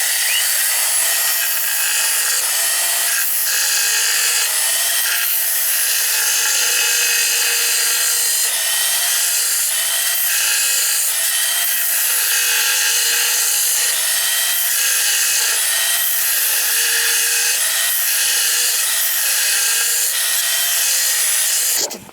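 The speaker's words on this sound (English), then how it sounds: "I'm going to have to take my time and just grind bit by bit." Rusty metal is ground off the outrigger of a Suzuki Jimny, a continuous harsh, high abrasive scraping that holds steady for the whole stretch with no talk.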